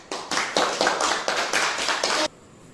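Applause for group 1 in an Indonesian vocational school class, about two seconds of steady rhythmic group clapping, close and clear, ending abruptly.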